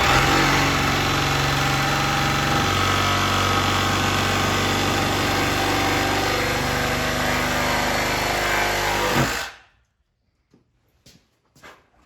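A Chevy 283 V8 engine runs loud and steady in a garage for about nine seconds, holding a rough idle with slight revving before cutting off abruptly, followed by a few faint clunks.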